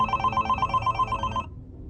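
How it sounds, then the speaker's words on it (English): A hotel room telephone rings in a rapid trilling bell pattern, loud and close, then stops abruptly, leaving near silence. "when the phone rang."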